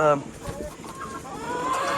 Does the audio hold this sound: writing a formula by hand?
no